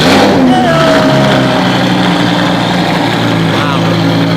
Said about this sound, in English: That car is very loud.